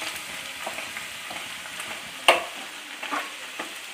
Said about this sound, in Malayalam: ഇപ്പോൾ നമ്മുടെ സ്പൈസസ് എല്ലാം നന്നായിട്ട് നല്ലെണ്ണയിൽ കിടന്ന് മൊരിഞ്ഞ് വന്നിട്ടുണ്ട്